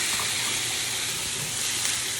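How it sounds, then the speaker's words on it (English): Water poured from a cup into a pan of cooking chicken wings gives a steady, close rushing splash that lasts throughout with no talk over it. "I'm going to add a little bit of water to our dish."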